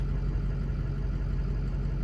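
A Ford Excursion engine idles with a new thermostat and fan fitted after head stud work, a steady low rumble holding constant and fairly close throughout.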